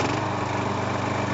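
A lawn mower engine drones steadily at close range, loud and continuous with no pauses or talk, during residential lawn care work.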